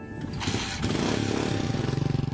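Second-hand motorcycle engine idling nearby, a rough rumble that picks up into a steady throbbing putter, loud and close, with no talk over it.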